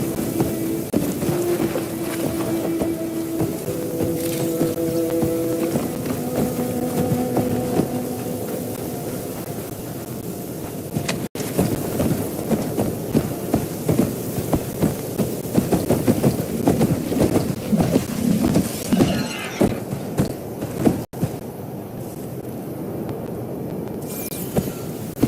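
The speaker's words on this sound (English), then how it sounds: "the storm swept up a sand spiral" A storm rages in the video game Horizon Forbidden West, with rain and rumbling wind roaring steadily for the whole stretch and occasional harder gusts, no voices.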